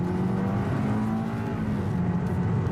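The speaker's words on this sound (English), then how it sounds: "does sound like a 4-cylinder engine" A 2020 Toyota Corolla's 4-cylinder engine accelerating, heard as a steady, fairly loud engine drone with a slowly rising tone and road noise from inside the car, with no talking.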